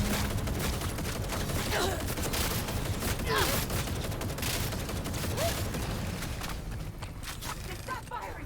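Gunfire in Cyberpunk 2077 Phantom Liberty: dense, continuous fusillade of automatic shots and cracks with soldiers shouting over it, loud and chaotic throughout.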